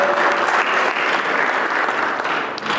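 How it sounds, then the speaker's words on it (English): An audience at a hemp industry keynote gathering breaks into a full round of applause, dense continuous clapping that holds loud and steady before easing slightly at the end. "Give them a big round of applause"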